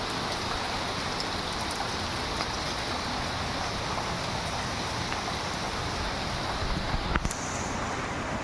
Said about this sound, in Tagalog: grabe naman to ulan